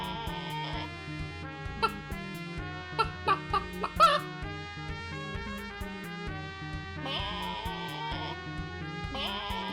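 Chicken clucking in the video game Square Root of the Universe: a short run of sharp clucks in the middle, set against steady, tuneful game music.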